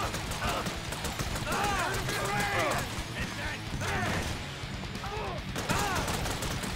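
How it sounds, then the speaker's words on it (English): Gunfire in Grand Theft Auto V, a busy run of shots and impacts blended with game effects and background noise, with a player talking over the action. "I got him shooting at me now, damn it."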